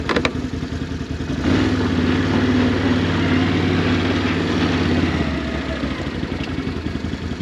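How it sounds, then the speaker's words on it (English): A Can-Am ATV engine runs close by on a Missouri farm, a loud, steady low rumble with a faint rattle that holds level for several seconds before easing slightly. "It's good to have the Can-Am here. Definitely needed a good ATV."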